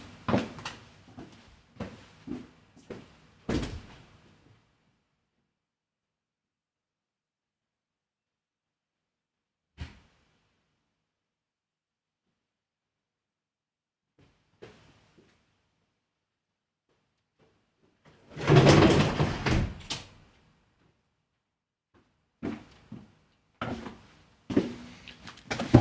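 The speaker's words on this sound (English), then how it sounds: "I need to just go and shut a couple of doors because the rain's coming in" Household doors are shut against incoming rain with several separate knocks and thuds spread across a quiet room, including one louder cluster of rattling and banging midway, all near and unaccompanied by talk.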